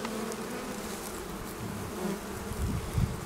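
Dense, steady buzzing of many honeybees in a hive close by at the end of winter, a continuous low drone with a few louder swells near the end.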